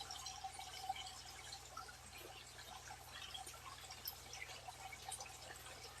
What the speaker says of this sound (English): water just kind of recollects down in the sump here